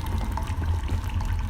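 Water in a train monster video game, a steady pouring, trickling wash that runs without pause for the whole moment and sits fairly loud in the mix.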